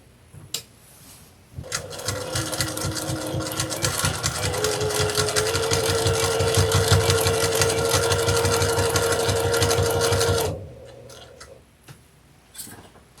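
A sewing machine runs a steady, fast rhythmic stitch through layers of Halloween cotton fabric for a table runner for about nine seconds, loud and close, then stops, with a few handling clicks before and after.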